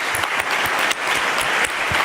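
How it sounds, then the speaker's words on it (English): A conference audience applauds steadily, a dense wash of many hands clapping at once that fills the room without pause. "Let's give them a warm round of applause"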